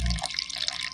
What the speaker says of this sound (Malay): Masukkan air kapur sirih.